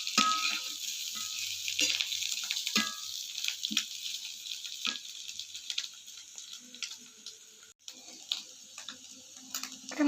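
Chicken pieces with coconut and dried red chillies crackle and sizzle in a little oil for a home-style chicken varuthathu, a steady close frying hiss with scattered pops and occasional stirring taps, no voices.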